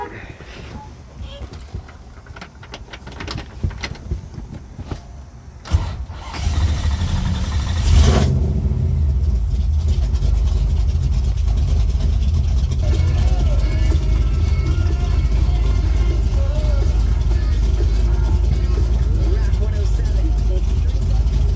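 Clicking and cranking give way to a 1955 Chevrolet Bel Air's 383 V8 catching and settling into a loud, rumbling idle, with voices faintly underneath.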